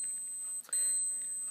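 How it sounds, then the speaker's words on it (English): A Seiko Coutura wristwatch alarm sounds faint, thin electronic beeps, a steady tone briefly broken, with no talking. "that's what this alarm sounds like"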